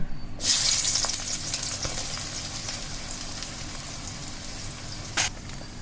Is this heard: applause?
no